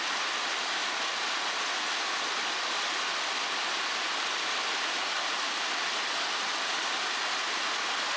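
A mountain stream in the Great Smoky Mountains rushes steadily, a dense, even wash of flowing water that holds close and loud for the whole stretch with no voices over it.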